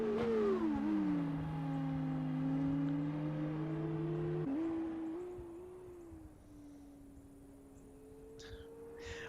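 F2 race car engine in the F1 2019 game on a lap at Bahrain on soft tyres, a loud whining rev that climbs and drops through gear shifts, then settles into a steadier, quieter drone.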